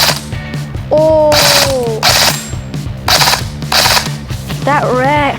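Ares Amoeba AM-014 airsoft rifle firing full auto in rapid mechanical bursts, loud and close, with short gaps between strings of shots and a voice speaking over parts of it.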